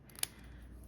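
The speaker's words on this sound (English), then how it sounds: "Let's use these bigger scissors and cut a little bit thinner" A single crisp snip of scissors cutting through a paper Christmas tag, brief and close over quiet room tone.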